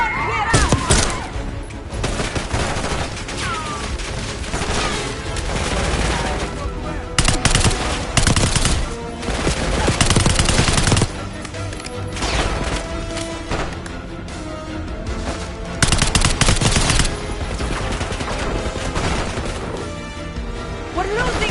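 Black Ops 6 campaign combat with dense, loud bursts of automatic gunfire and scattered single shots crackling through the whole passage, mixed with shouting voices.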